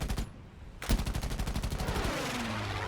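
Aircraft machine gun firing from a VL Pyörremyrsky fighter in War Thunder, a short burst, a pause, then a long rapid stream of evenly spaced shots, loud and close over engine drone.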